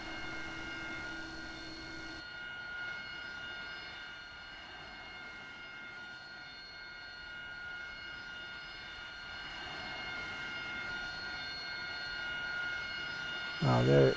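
Aircraft engine droning steadily nearby in the War Thunder video game, a continuous mid-level hum held throughout with a brief louder burst of noise at the end.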